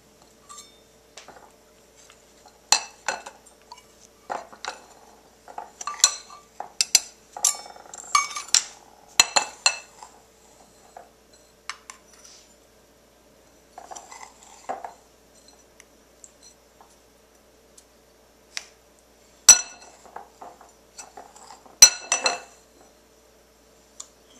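A dry measuring cup scoops a dry ingredient for caramel icing, producing scattered light clinks, scrapes and taps against a container in irregular bursts with quiet gaps between them.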